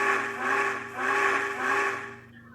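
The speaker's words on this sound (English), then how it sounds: "they heard a whistle that sounded like this" Three loud, breathy steam whistle blasts in a row, each swelling and fading, then cutting off into quiet.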